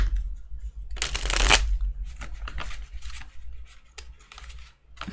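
A stiff, not-yet-broken-in deck of tarot-style cards being shuffled by hand, close up, with a loud riffling burst near the start followed by several shorter papery shuffles and taps.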